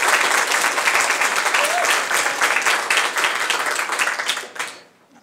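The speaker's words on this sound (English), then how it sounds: "give one more round of applause" An audience applauding at a library budget address, dense sustained clapping from a crowd that holds steady, then tapers and fades out near the end.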